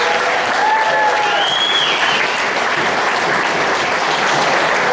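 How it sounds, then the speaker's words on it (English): A meeting audience claps loudly in a thick, continuous round of applause, with a few whistles or shouts rising over the steady clapping. "Give Mike another round of applause."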